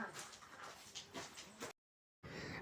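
A dog whimpers and whines in short high-pitched bursts up close, followed by a brief silent gap before the noise resumes.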